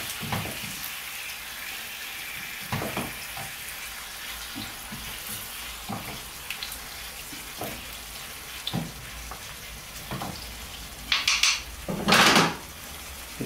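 Chicken livers with Tropea onion frying in a pan: a steady, soft sizzle runs throughout, with occasional utensil clicks and a louder burst of crackling near the end.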